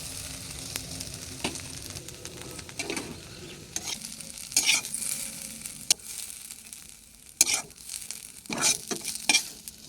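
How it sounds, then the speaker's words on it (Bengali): Potatoes fry in a pan with a steady sizzle, broken by occasional scraping and clattering strokes as they are stirred, close and fairly quiet. "আলু ভাজা হতেই একটু সময় লাগলো।"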